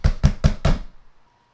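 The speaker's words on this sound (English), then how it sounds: "A fist hammered at her door again" A fist hammers on a wooden door in four loud, heavy, evenly spaced knocks, close by, followed by a brief decay into silence.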